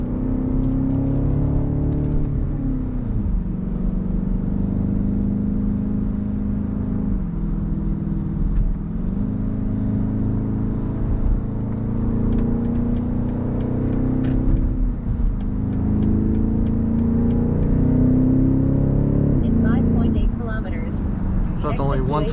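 A BMW X5 M50i with a 4.4-litre V8 biturbo pulls hard on the German autobahn on summer tires, its engine drone rising through repeated upshifts under steady road and wind roar while someone talks over it.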